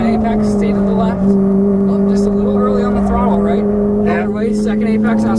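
Ferrari F430 engine pulling hard out of a corner on a race track, a loud steady tonal drone holding close and constant, with an instructor's voice talking over it throughout.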